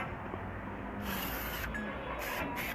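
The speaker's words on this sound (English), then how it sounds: "You hear this spray bottle?" A spray bottle gives three short hissing bursts, the first longer and the last two quick, fairly faint over a quiet room background.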